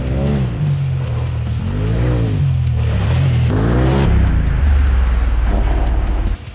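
A Polaris RZR Turbo S side-by-side tears along a slick, sloppy Georgia clay trail at Durhamtown. The engine revs loud and close in repeated rising surges, with brief drops between pulls.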